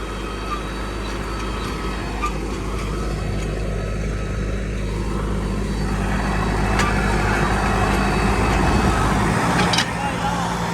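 A Sonalika turbo tractor with an upgraded engine drones steadily at close range, a low continuous rumble that grows slightly louder, with some talk mixed in beneath it.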